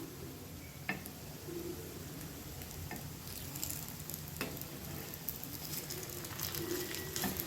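Sweet corn cheese balls fry in hot oil with a steady close sizzle and bubbling, broken by a few sharp taps and clinks of a utensil stirring or turning them.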